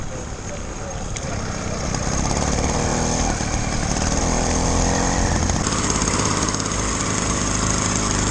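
Small 80cc motorbike engines running steadily at a high-pitched buzzing rev, loud and close throughout, with a voice over them.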